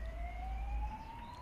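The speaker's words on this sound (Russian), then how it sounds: "Где-то сирена." A distant emergency siren wails faintly near a bridge between Daugavpils-area towns Jēkabpils and Krustpils, its steady rising tone drifting over low rumbling wind or traffic noise, with no talking.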